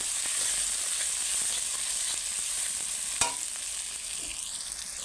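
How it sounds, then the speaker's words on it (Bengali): Tomato and onion frying in a pan for a Bengali doi katla curry, a steady close sizzle with stirring scrapes throughout and one sharp utensil clink partway through; no one speaks. "দেখো বন্ধুরা টমেটো পেঁয়াজটা আমার সুন্দর করে ভাজা হয়ে গেছে"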